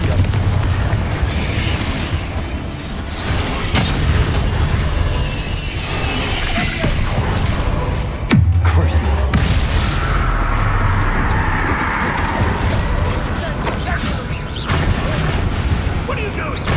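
Confringo explosive spells blast repeatedly in the video game Hogwarts Legacy, loud booming bursts over a rumbling battle din, with a sharp crack midway and someone shouting spell names throughout.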